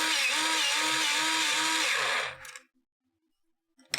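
An Arteza sharpener grinds an Ergosoft colored pencil with a loud, close, steady whirring buzz for about two seconds, then cuts off into silence before a brief clack at the end.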